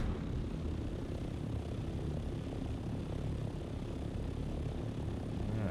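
Helicopter flying by in Dune: Awakening, a steady low droning rotor and engine rumble held at an even, moderate level for several seconds with no talk.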